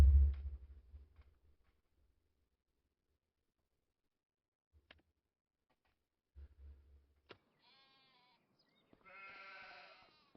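Sheep bleating in the farming video game Farming Simulator 25, heard as a run of short nasal bleats near the end of the clip after a quieter stretch with a few faint clicks.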